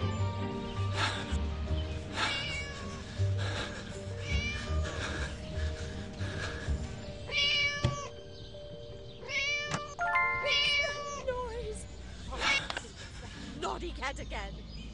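A cat in Scary Teacher 3D meows repeatedly, several drawn-out, close cries scattered across the stretch over a busy game background.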